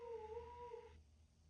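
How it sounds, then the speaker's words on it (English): A dog whines and howls in a drawn-out, wavering cry, fairly close, trailing off abruptly after about a second, with no talking over it. "my dog just is yelling."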